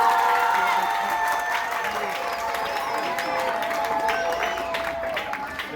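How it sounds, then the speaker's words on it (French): Applause from an audience at a school ceremony where students receive kits of supplies, a steady, dense clapping that fills the whole moment, with voices mixed in beneath it. "On applaudit."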